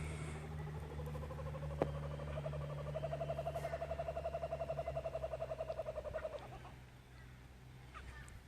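A kookaburra calls near a creek, its pulsing, rising chatter building into a steady rhythmic laugh for several seconds before trailing off, moderately close over a low background hum.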